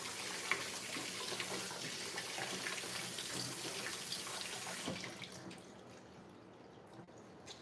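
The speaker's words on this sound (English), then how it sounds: "Just gotta rinse my hand." A hand being rinsed under a running tap, a close, steady gush of water splashing for about five seconds before the flow cuts off, leaving faint drips and quiet.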